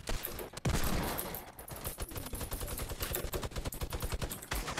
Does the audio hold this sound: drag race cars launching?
no